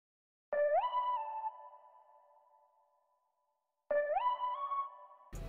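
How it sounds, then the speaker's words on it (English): Glidey synth pattern programmed in Logic Pro X, with EQ cutting the lows: two sonar-like tones that swoop upward in pitch, then sustain and fade into a long echoing tail, separated by silence. "I made this like kind of like glidey pattern, and this is what it sounds like."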